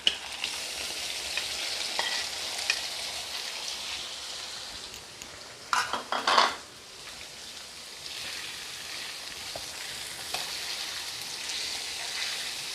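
Minced chicken and onions fry in a pan for chicken keema, a continuous sizzling hiss with a burst of louder stirring and scraping midway, then settling back to an even crackle without speech.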